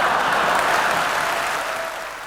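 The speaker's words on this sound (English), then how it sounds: "They laughed and applauded that" A conference hall audience at a Conservative Party gathering applauds steadily after a political speech, a dense, sustained roar of clapping that fades slightly toward the end, with no voices over it.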